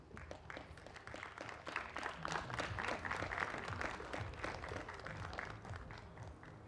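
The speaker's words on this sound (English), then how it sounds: "An applause from the stands." Applause from spectators in the stands greets the six finalists at a women's skeet shooting final, a steady, moderately distant patter of clapping that swells slightly in the middle and continues throughout.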